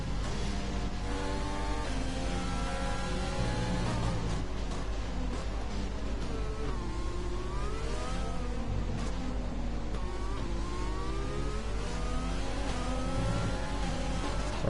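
Race cars in the F1 2020 video game scream past with high buzzing engines at the Brazilian Grand Prix, several overlapping revs rising and falling as gears change, steady and loud with no talk.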